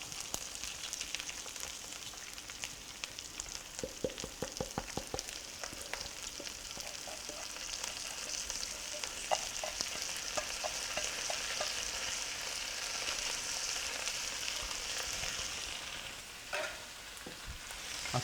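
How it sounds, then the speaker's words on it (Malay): Soaked rice toasting in oil in a pan for nasi serai gives a steady, soft sizzle. A few light scrapes and taps from stirring sound close but faint, and there is no talk. "Okey, kita goreng beras ni."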